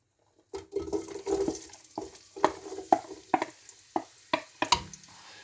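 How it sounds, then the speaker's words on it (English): Onions and garlic hit a pan and start sizzling, followed by a run of stirring scrapes and taps at a steady rhythm. Close and clear, with no talking. "So we're going to put the onions in now, viewers, and the garlic."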